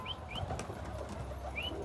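Pigeons entering their loft, a few short chirps and soft coos over a low rumbling background, with faint wing flutters, close and quiet.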